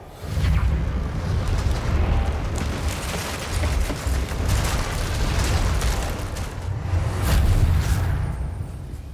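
A Reparo spell rebuilds a broken bridge in Hogwarts Legacy, a loud, sustained rumble of heavy stone grinding and shifting that swells and surges for several seconds, with no voices.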